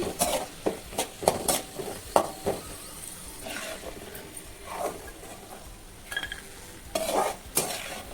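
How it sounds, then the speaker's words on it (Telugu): Raisins and cashews frying in ghee over a low flame, with repeated stirring scrapes and clinks of a spoon against the pan over a soft sizzle, close and moderately loud. "ఫ్లేమ్ అనేది లో ఫ్లేమ్లో పెట్టి ఈ ఎండు ద్రాక్షల్ని బాగా వేయించుకోవాలి"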